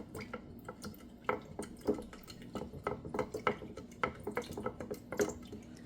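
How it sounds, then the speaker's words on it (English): Wild violet jelly mixture being stirred in a pot or bowl, a soft run of wet clinks and liquid swishes in an irregular rhythm, quiet and close with no talking. "Stir it up really good."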